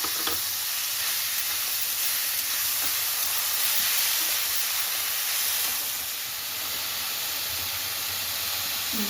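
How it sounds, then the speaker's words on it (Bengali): Potatoes fry in a pan of hot oil with asafoetida, giving a steady close hiss and sizzle throughout with faint scraping stirs and no talking. "এবার এই আলুটাকে ভালো করে ভেজে নিচ্ছি।"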